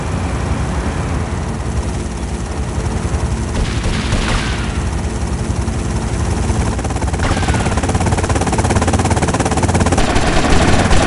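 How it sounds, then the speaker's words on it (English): A helicopter's rotor in the mobile game GTA drones continuously and loudly, with bursts of gunfire and booms mixed in over steady engine noise. "They've got a helicopter!"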